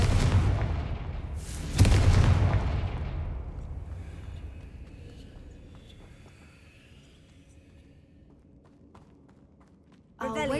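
A loud blast from the Confringo spell in Hogwarts Legacy erupts at the start, followed by a second sharp impact, then a long fading rumble, with a new burst of sound at the very end.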